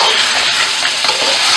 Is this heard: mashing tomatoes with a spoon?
yes